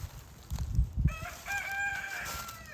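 A rooster crows at a farm in western North Carolina, one drawn-out harmonic cock-a-doodle-doo rising after a few low thumps and rustles, moderately close against faint background noise.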